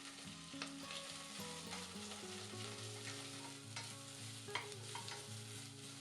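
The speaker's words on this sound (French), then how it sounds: "dans une casserole à feu vif, avec une cuillère à soupe d'huile, faire dorer les carapaces et les têtes" Shrimp shells and heads sizzle and crackle steadily in hot oil in a saucepan over high heat, with occasional stirring scrapes and pops.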